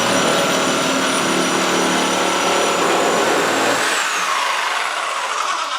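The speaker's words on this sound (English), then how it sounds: "Now for our second cut, I'm going to go ahead use the Orbital Super Sawzall in non-orbital mode by sliding the switch all the way to the left" Milwaukee Orbital Super Sawzall 6523-21 reciprocating saw in non-orbital mode, loud and steady close by as it cuts, a high whine holding for about four seconds before the motor winds down.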